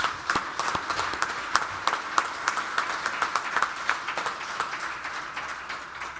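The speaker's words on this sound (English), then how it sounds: "A round of applause for that group of individuals." Audience applauds at a news conference, a burst of scattered hand claps heard from a moderate distance that gradually thins out over several seconds.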